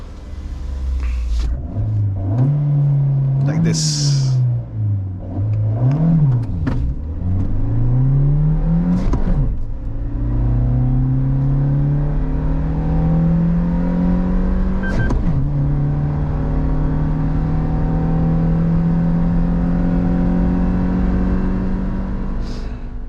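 Maruti Jimny 4WD engine heard from inside the cabin with the window up, a steady muffled rumble that rises and falls with revving early on, then settles into smooth acceleration through the gears; a brief voice appears at the start.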